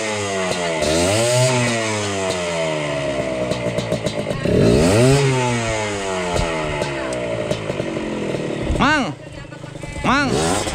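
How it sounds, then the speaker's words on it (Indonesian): A wood-cutting machine, likely a chainsaw, revs and bogs with rising and falling engine pitch, loud and close, mixed with other engine noise and people talking over it. "itu mesin kayu."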